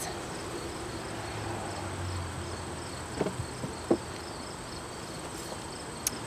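Honeybees in an open hive on a hot day give a steady, soft buzzing hum that runs throughout, with a few brief light clicks and taps near the middle.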